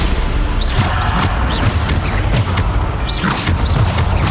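Repeated Bombarda blast spell explosions in the video game Hogwarts Legacy, fired during a fight with trolls, land as loud booming crashes in quick succession over a dense, roaring battle din.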